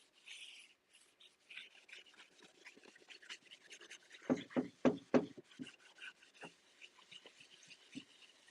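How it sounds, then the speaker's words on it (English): A clean rag rubs wax onto a wooden dresser, giving soft scattered scuffing strokes at close range, with a short flurry of firmer rubs partway through and no talking. "I'm gonna come back and just rub with my clean rag."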